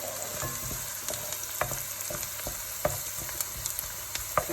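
Garlic and onion sizzle loudly with chicken thighs in a pan, a dense constant frying hiss broken by occasional soft stirring clicks and pops, with no one speaking.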